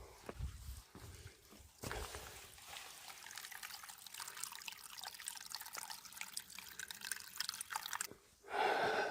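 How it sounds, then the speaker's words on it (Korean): Water flowing and trickling near Dasan Chodang, a thatched hillside retreat among bamboo in southern Korea: a continuous faint splashing stream with small drips, steady throughout with brief louder bursts. "물소리가 듣기 너무 좋아요"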